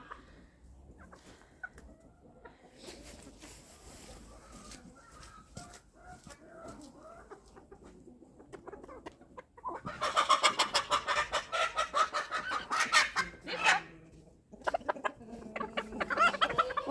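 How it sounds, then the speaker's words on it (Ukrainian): Chickens clucking in a farmyard, including a small bantam hen, a stream of close, repeated clucks that turns louder and busier midway, then continues in bursts. "І курочка сюди йде. Мала, вредна курочка."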